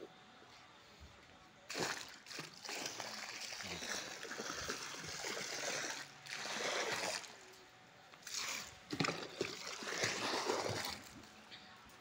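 Oil eliminator product is poured into pool water, giving a steady splashing and sloshing pour with a few louder surges, fairly quiet overall.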